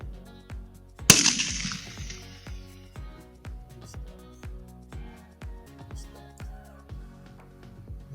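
During an eland hunt a single sharp gunshot cracks out once, loud and near, standing out over a steady rhythmic thumping background, with people talking around it.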